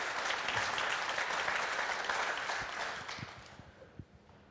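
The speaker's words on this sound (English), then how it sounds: "Round of applause there," Applause from a group swells and then tapers off, the clapping fading as a few louder, isolated claps remain at the end.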